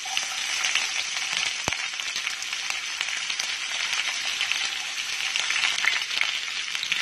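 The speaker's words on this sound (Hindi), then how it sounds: "साथ के साथ हम डाल देंगे प्याज जो हमने काटी है।" Chopped onions fry in hot tempering oil for poha, a steady dense sizzle running throughout, close and loud, with one sharp click near the start.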